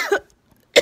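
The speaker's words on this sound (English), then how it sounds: "excuse my cough" A single sharp cough, close and loud, followed by a short silence and then a second cough burst.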